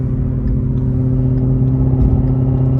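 Shelby GT350 engine with a modified exhaust cruising at low revs in sixth gear, a steady close, deep grumbling drone with a faint rise in rumble, no talk.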